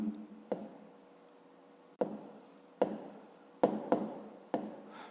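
Pen or pencil strokes in a notebook while working a fifth-grade maths exercise, a close sequence of short scratchy writing bursts with sharp onsets, alone with no talk.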